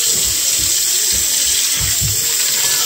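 Water runs steadily from a tap over a cast iron skillet while it is gently scrubbed by hand, with soft rhythmic scrubbing strokes beneath the constant hiss of the stream.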